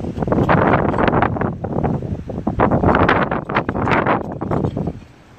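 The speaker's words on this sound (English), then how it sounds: "Oh, I can feel the wind," Strong outdoor wind buffets a handheld phone microphone during a livestream of carving an Osage wood wand, producing loud, continuous rumbling gusts that swell and ease before dropping off at the end.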